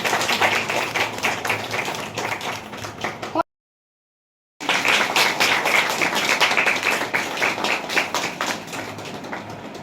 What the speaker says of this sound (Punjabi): ਸਾਰਿਆਂ ਨੇ ਤਾੜੀਆਂ ਮਾਰ ਕੇ ਸਵਾਗਤ ਕਰੋ